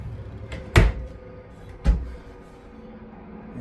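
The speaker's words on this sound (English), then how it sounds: "Deep drawers or cupboards." A kitchen cupboard door in a 2026 Lacrosse 3411RK RV is opened and shut, giving two sharp, close wooden thumps about a second apart, with a quiet room between them.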